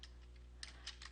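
Several light computer keyboard keystrokes in a short, irregular burst, fairly quiet over a low steady hum.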